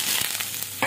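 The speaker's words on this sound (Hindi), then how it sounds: "तब इसी तेल में हम जो है मशरूम को भी फ्राई कर लेंगे" Mushrooms hit hot oil in a pan, a short burst of bright frying hiss with a few quick stirring scrapes, close and brief, no voices.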